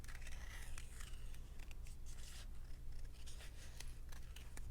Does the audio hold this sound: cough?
no